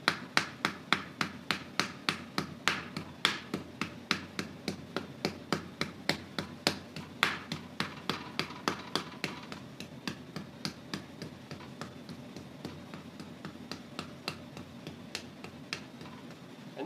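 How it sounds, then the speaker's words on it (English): A wooden paddle strikes the outside of a clay jar, held against an anvil hand inside, in a steady run of several dozen close, sharp knocks that ease off toward the end. "that downward paddling, I'm hitting it, is actually moving the clay"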